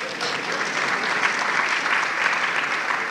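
A conference audience breaks into steady, full applause, a dense even wash of clapping from a large crowd with no talk over it.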